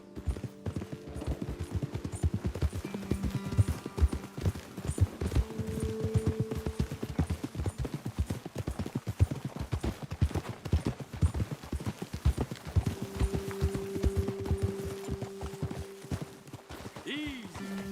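Horses in Red Dead Redemption 2 clip-clop along at a brisk, steady pace, their hoofbeats close and continuous, while voices speak over them at times.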